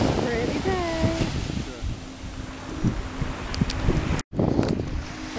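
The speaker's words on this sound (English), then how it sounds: "You probably can't hear me because of the wind, can you?" Wind buffets a microphone at a sunny beach where someone is surfing, a loud continuous rushing roar with gusty surges over the distant surf, cut briefly by a dropout near the end, while people talk.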